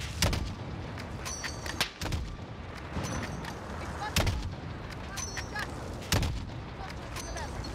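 Call of Duty gunfire, including sniper shots: sharp, loud cracks ring out roughly every two seconds, each followed by a rolling echo over a constant battlefield rumble.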